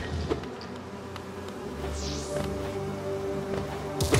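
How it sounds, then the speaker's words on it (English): Buzzing swarm of bees released by a dying boss in Hollow Knight, a steady insect drone running throughout, with a brief rising whine near the middle and a sharper burst at the end. "he shed out a lot of bees when he died"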